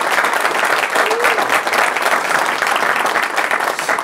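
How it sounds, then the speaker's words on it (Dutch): Audience applause for award winners at a business awards evening in Venray, a full, steady round of clapping from a sizable crowd, loud and continuous with a faint voice briefly audible underneath. "Dames en heren, applaus!"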